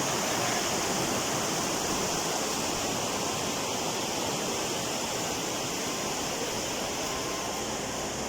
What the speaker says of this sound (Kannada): ನೀರಿನ ಅತಿ ಸುಂದರವಾದ ಶಬ್ದ.